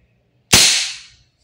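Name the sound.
Umarex HK416D Gen 3 airsoft gas blowback rifle firing a semi-auto shot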